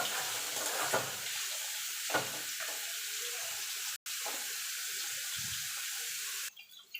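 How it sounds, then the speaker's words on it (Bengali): Radish greens fry in a pan, giving a soft, steady hiss with watery crackle that runs continuously, broken by a few brief clatters of stirring. "এবার এটাকে ভাজা ভাজা করে নেব"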